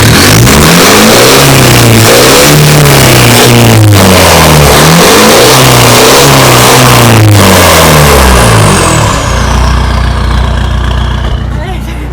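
Loud, close motorcycle engine revving through an aftermarket exhaust in repeated rising and falling surges, then dropping to a steady rumbling idle as the roar fades.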